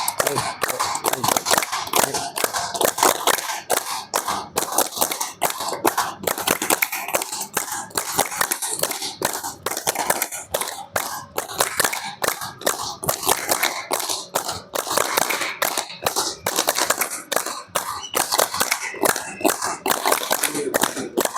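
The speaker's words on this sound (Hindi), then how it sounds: "ताली।" Steady, rhythmic hand clapping during a yoga session keeps up sharp, close claps in a fast, even beat that runs without pause for the whole stretch.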